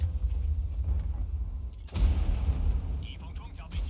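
A tank's main cannon fires in a World of Tanks-style video game, one loud sharp boom near the two-second mark over a constant low rumble of engine and battle ambience, followed by a fainter second report.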